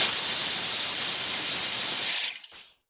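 A Thermomix whirring hard at speed 7 as it chops nuts: loud, steady broadband roar for about two seconds, then it cuts off abruptly with a brief rattle as the blade stops.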